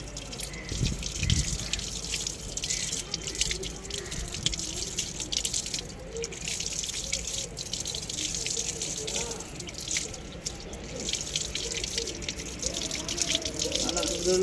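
Radishes caked in soil are rinsed under running water outdoors, giving a steady dripping and splashing trickle that continues throughout, with faint background noise and no clear talk.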